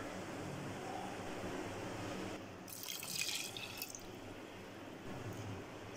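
Water pours into a pot of washed moong dal for a breakfast dish, a steady close splashing stream swelling midway and then trickling off, with no talk over it.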